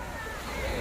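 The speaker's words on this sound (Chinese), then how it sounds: "水过来了， 真涨潮了，真涨潮了" Rising tide waves wash ashore on the eastern shore of Rushan Silver Beach in early August, a brief steady rush of surf with wind noise.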